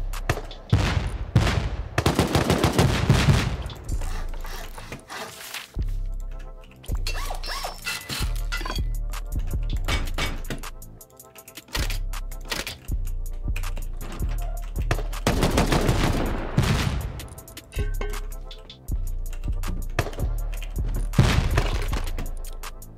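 Turrets blaze away during a raid defense in a survival video game, dense loud bursts of automatic fire in repeated volleys, with brief pauses between barrages and no talking.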